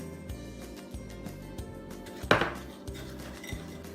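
Melted butter being mixed into a cheesecake crust in a bowl gives soft scraping and tapping of a utensil against the bowl, with one sharper clatter midway, close and fairly quiet, with no talking.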